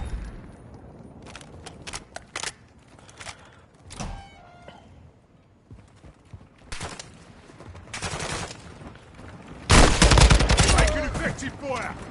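Bursts of gunfire from a Call of Duty match, scattered single shots and short volleys early on, then a loud, dense stretch of firing near the end, with faint radio-style voices in between.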